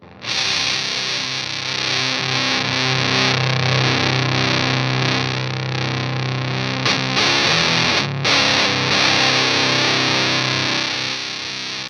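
Electric guitar played through an Everybody Hertz Ghozer fuzz pedal with the mid-range control turned up, giving a thick, saturated sustained tone that rings continuously, loud and close, with a brief break near the end and no voices.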